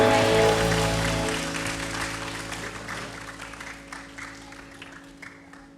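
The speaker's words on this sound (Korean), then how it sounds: "우리 최고의 영광의 박수를 올려드립니다." Church congregation applauding at a Korean worship service, sustained clapping over sustained organ or keyboard tones that slowly fade out.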